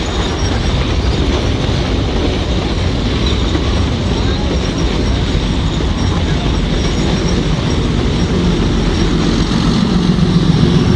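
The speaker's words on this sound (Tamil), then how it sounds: "இந்த ட்ரெயின் இந்த ஆபத்தான ட்ரெயின் தப்பிச்சிட்டேன்" A train rumbles past close by, loud and continuous, with clattering wheels over the rails and a steady roar throughout.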